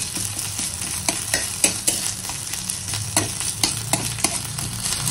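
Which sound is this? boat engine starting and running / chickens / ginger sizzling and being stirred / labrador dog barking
ginger sizzling and being stirred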